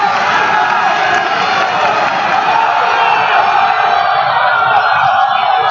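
A large crowd of high school wrestling fans in a gym roars steadily and loudly for the whole stretch, a dense wall of cheering and yelling without pause.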